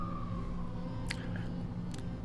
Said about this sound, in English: sorry about the sirens